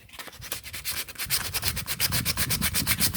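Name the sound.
sanding a lawn mower tire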